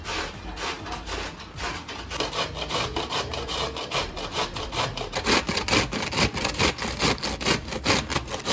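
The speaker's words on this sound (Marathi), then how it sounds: "तर इथे तुम्ही बघू शकता कोबी एकदम बारीक किसून झालेला आहे" Cabbage being grated finely by hand for momos: a continuous run of quick, rhythmic scraping strokes, close and fairly loud, growing slightly more forceful toward the end, with no talking.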